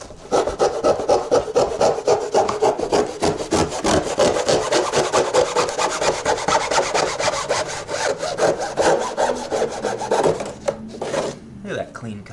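Continuous rasping saw cutting through a car body panel for a wide-body kit install, steady rhythmic strokes, close and loud, stopping near the end.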